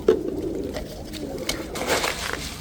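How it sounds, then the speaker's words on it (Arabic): Pigeons coo softly in front of the camera, low rolling calls repeating close by, with faint handling noise around them. "وهاي قدامكم الطيور"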